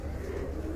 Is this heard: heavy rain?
no